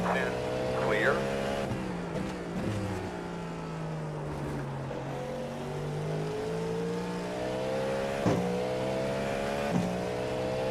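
GT3 race cars in the iRacing sim, engines droning with steady harmonic tones that shift pitch as they accelerate and lift, while a voice talks over the running engine noise.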